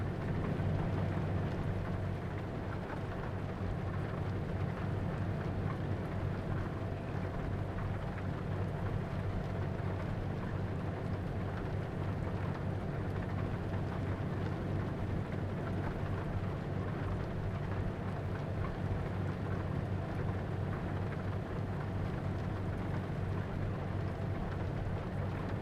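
Steady rain in the Euro Truck Simulator 2 driving game, a continuous even hiss over a low, constant truck-engine rumble, with no voices.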